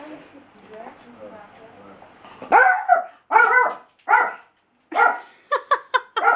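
A dog barks in loud, close bursts, several sharp barks in quick succession after a stretch of talking that continues beneath and between them.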